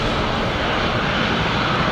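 A Qantas Link Dash 8 turboprop airliner at Brisbane Airport at night gives off a steady, loud, broadband engine roar that holds evenly throughout, with no voices.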